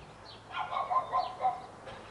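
Birds gathering outdoors over bread spread on the ground give a few short, scratchy calls in quick succession, faint and somewhat distant against quiet background.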